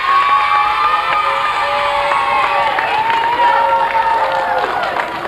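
Cheering and applause for winning school teams at a school sports day, a steady wash of crowd voices with children shouting and scattered clapping throughout.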